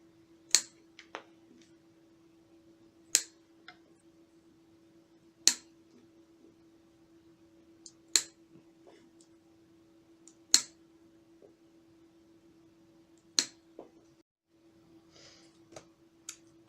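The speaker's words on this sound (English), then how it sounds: "use my beautiful little Japanese snipping tools and cut off all of the extraneous bits inside and out" Small Japanese snipping shears trimming the protruding ends of a woven willow basket: sparse, crisp snips every couple of seconds, close and quiet, over a faint steady background hum.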